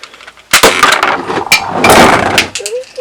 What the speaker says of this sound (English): So if we push this little trigger right there, we should fire some discs.